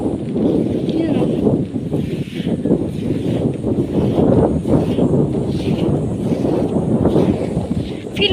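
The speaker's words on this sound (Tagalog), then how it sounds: "Lakas ng hangin." Strong wind gusts at a seashore in Bacacay, Albay roar steadily close to the microphone, a continuous low buffeting that fills the whole stretch.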